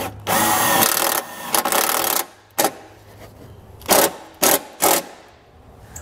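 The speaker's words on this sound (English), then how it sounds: "I'm going to take the self-tapping screw that they give you, put it through our ring terminal, and secure this to the body of our vehicle" A power drill drives a self-tapping screw through a ring terminal into a vehicle's body sheet metal. A long whirring burst comes first, then several short, loud, close spurts with pauses between them.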